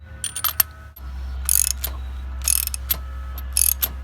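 A socket wrench ratchets a spark plug tight on an outboard engine, with several short bursts of crisp metallic clicking separated by pauses over a low steady hum, close up.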